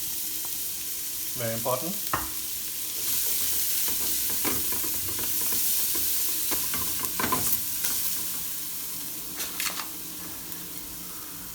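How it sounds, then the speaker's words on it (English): Garlic and shallots sweat in heated olive oil in a pan for risotto, a soft steady sizzle broken by utensil scrapes and clinks as they are stirred, with a brief spoken comment. "Now we're going to sweat quickly garlic and shallots without color."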